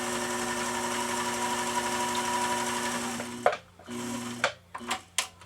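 A 1222SE sewing machine stitches through four layers of denim in a long steady close hum, then stops and gives a few short bursts with clicks while turning corners.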